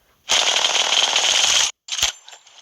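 A long burst of rapid automatic gunfire from a gun in the game Craftmania, with a synthetic, game-like tone, then a short pause and a brief second burst.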